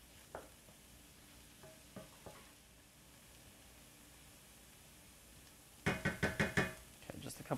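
Garlic goes into a pan of zucchini quiche filling over a faint sizzle, with a few soft knocks early on, then a quick run of sharp utensil taps and scrapes against the pan near the end.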